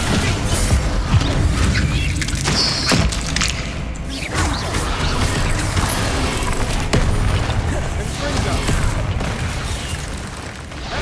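Bombarda spell blasts in the wizarding action game Hogwarts Legacy, repeated heavy booms and crashes during a dense, continuous fight with impacts and clatter, loud throughout.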